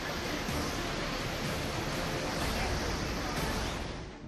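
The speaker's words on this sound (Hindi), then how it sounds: "नदी में पानी की रफ्तार और सैलाब की डराने वाली आवाज" Swollen river in Tehri after heavy monsoon rain, floodwater roaring as a dense, unbroken broadband rush, steady and loud throughout with no distinct pauses.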